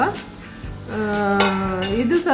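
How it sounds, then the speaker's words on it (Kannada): Spices sizzle and crackle in hot oil in a pan for Mangalore-style chicken sukka, a loud, steady frying hiss with a voice-like tone briefly sounding over it. "ಇದು ಕೂಡ ಹಾಗೆ ಸ್ವಲ್ಪ ಫ್ರೈ ಮಾಡ್ತಾನೆ ಇರಬೇಕು."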